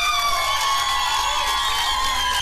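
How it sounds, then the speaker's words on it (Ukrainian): Crowd cheering and whooping with some applause for a contestant at an outdoor karaoke show on a city square, steady and loud throughout over a sustained musical tone. "Маргарита Іванюк, оплески."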